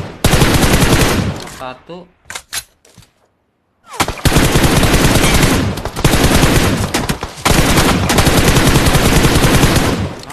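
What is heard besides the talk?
spray gunfire in PUBG Mobile video game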